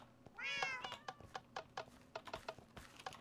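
Repeated Minecraft cat meows come close and clear: one drawn-out mew, then a quick run of short, evenly spaced meows, over soft game ambience.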